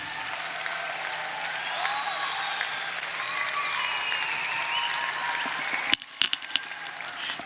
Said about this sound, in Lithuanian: Ačiū už plojimus.